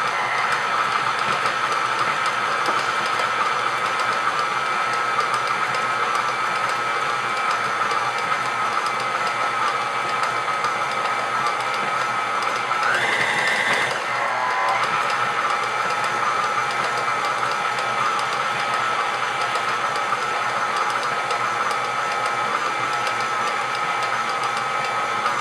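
A KitchenAid stand mixer runs on low speed, mixing vanilla cake batter from scratch, giving a steady, even motor hum throughout with no talk over it.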